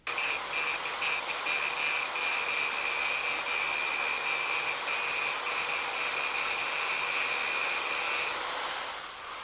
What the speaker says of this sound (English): Always use a depressed center grinding wheel at an angle of 30 to 40 degrees to the workpiece.